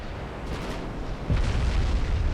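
Naval gunfire from an 1896-era French warship striking a Chinese armored cruiser in a strategy game, heard as a dense rumbling roar that swells into a heavier, louder boom partway through.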